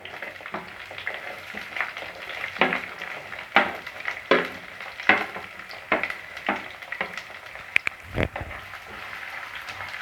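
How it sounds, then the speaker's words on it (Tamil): Small onions and garlic with dried red chillies sautéing in a pan for a garlic fish curry, a steady soft sizzle broken by repeated stirring scrapes and a few clinks of a spoon against the pan, close and moderately loud. "வெங்காயம் பூண்டு ரெண்டுமே கோல்டன் ஃப்ரை ஆகிற வரைக்கும் வதக்கி விட்டே இருங்க"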